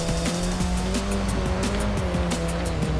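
A 2013 Wuling Sunshine S microvan with Itasha livery driving in Forza Horizon 5, without off-road tires: a steady, loud engine drone with tire noise and rumble, continuous and close.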